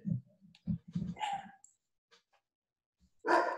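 A dog barks several times nearby, with short bursts at the start and a louder bark at the end, separated by quiet gaps.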